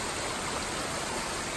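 Steady broadband rush of water streaming beside a hiking trail on the Appalachian Trail, continuous and close, with no voices over it.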